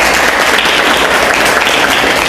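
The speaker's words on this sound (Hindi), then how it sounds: "एक बार आप सभी के लिए जोरदार तालियां हो जाए।" Loud, steady applause from an assembled audience at a DMIT counseling event in Kashmir, a dense continuous roar of clapping with no speech over it.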